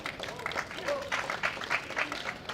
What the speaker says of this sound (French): applaudissements également pour tous les points de cette partie